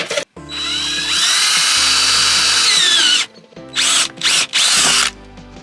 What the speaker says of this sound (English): just drill a little hole in there, probably about 10mm